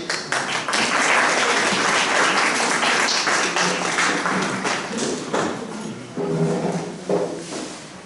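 Audience applause welcoming a speaker to the stage at an Islamic-ethos investment and wealth management talk: sustained, dense clapping from a crowd that slowly thins and fades toward the end.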